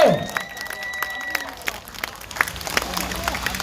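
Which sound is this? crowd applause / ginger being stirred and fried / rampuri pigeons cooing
crowd applause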